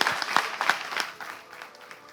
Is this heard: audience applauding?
yes